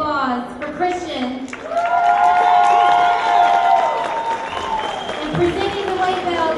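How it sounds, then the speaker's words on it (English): Applause and cheering from a crowd at a state bodybuilding championship greet the men's open overall winner. The sound is loud and sustained, with whoops and raised voices over steady clapping. "Let's hear a big round of applause for Christian."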